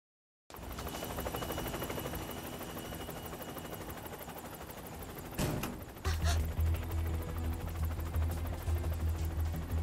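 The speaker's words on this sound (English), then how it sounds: "Assuming it's the helicopter." A helicopter in the Persona 4 Arena Ultimax video game gives a rapid, rhythmic rotor chop that swells louder midway and adds a low droning hum, with no speech.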